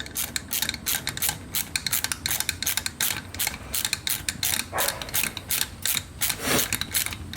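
Screws are tightened down on the carburetor inside a Yamaha Virago intake manifold, giving rapid repeated clicking ratchet strokes in quick bursts, close and fairly quiet, with no talk.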